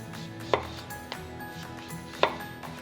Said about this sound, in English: As soon as you slice down and start to see seeds, give that zucchini a turn and cut from the other side.